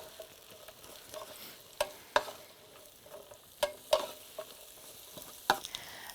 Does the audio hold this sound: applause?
no